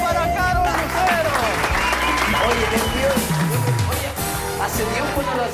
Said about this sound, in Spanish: ¡Aplausos para Carol Lucero!